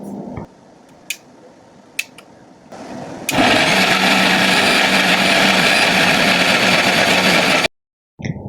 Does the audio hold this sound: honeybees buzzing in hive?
no